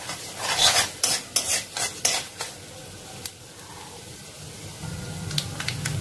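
A utensil stirs carom seeds (ajwain) frying in hot oil in a pan, with a series of scraping clinks at first, then a soft, quiet sizzle, with no voices.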